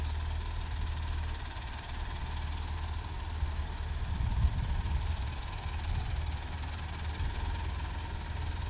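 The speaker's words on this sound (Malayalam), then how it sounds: "ട്രാക്ടർ സ്റ്റാർട്ടാക്കിയിട്ടുണ്ടായിരുന്നു" A tractor engine idles steadily nearby, a low continuous rumble with a slight swell in the middle and no voices over it.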